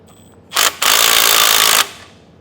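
A power tool whirs loudly, tightening carriage bolts or U-bolts while an air bag suspension kit goes onto a 2017 Chevrolet Silverado's rear axle. A short burst comes first, then one sustained run of about a second, close up, followed by quiet.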